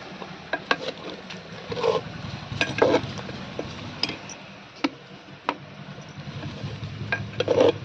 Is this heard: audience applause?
no